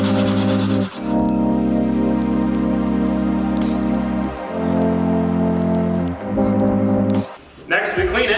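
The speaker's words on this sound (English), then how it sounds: "We're gonna start off by kind of roughly sanding it." A Miata interior trim piece is roughly sanded by hand in a garage, with strokes of steady rasping rub broken by brief pauses, close and fairly loud.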